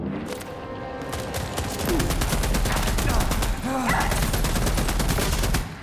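Rapid gunfire with incendiary rounds in The Expanse: Osiris Reborn sci-fi shooter, dense bursts of automatic shots crackling continuously, loud and close, with combat noise throughout.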